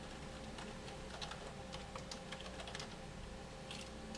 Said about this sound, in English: That's because we have to type XWacom